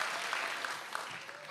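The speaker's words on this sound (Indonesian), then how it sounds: "tepuk tangan buat Heru dong." Studio audience at an Indonesian comedy talk show gives a brief, steady burst of applause for a guest, with faint voices under the clapping.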